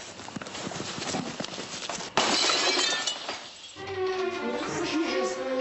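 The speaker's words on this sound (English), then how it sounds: "The Kushnicks were awakened by the terrifying sound of glass breaking." Window glass shatters and breaks in a sudden loud crash partway through, preceded by a rough clattering bed of noise and followed by tinkling debris and lingering rumble.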